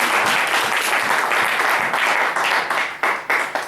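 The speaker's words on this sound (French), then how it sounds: "Est-ce qu'on peut acclamer la parole de Dieu?" Church congregation applauding in acclaim, loud sustained clapping from a crowd close by that thins into scattered claps toward the end.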